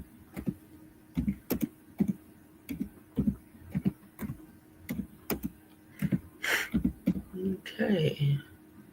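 Irregular clicks and taps from someone typing on a computer keyboard, with short bursts of keystrokes separated by pauses and a few brief vocal sounds near the end.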